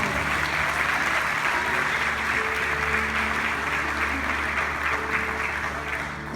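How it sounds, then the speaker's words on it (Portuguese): A church congregation applauds at a Portuguese-language healing and deliverance worship meeting, steady close clapping that fills all six seconds with faint sustained tones and voices mixed underneath. "Aplausos, Jesus, aplausos."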